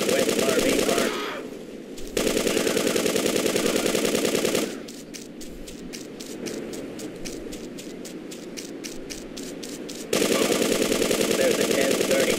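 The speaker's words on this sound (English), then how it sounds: "Machine gun!" Machine gun fire in the GTA 2 game, in dense rapid bursts over loud, constant game noise, with a slower run of evenly spaced shots in the middle and the heavy fire returning at the end.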